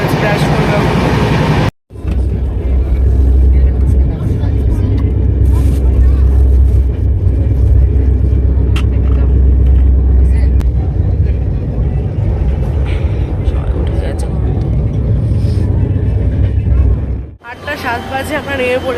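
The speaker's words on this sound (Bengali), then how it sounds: "যা আওয়াজ হচ্ছে ট্রেনে" A moving train rumbles loudly from inside the carriage, a constant heavy low roar with rattling under faint chatter, cutting out briefly near the start and easing off near the end.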